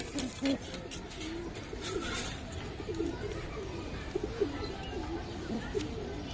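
Giribaz pigeons coo softly in low, repeated bursts against a steady background hum, the calls fairly faint and scattered through the stretch.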